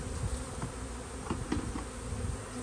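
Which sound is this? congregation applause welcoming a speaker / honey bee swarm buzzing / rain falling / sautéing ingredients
honey bee swarm buzzing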